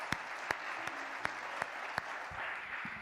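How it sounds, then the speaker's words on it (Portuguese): Congregation at a church service clapping, a dense, even wash of applause with a few sharper claps standing out, with no talk over it. "Vamos dar um aplauso ao Senhor Jesus."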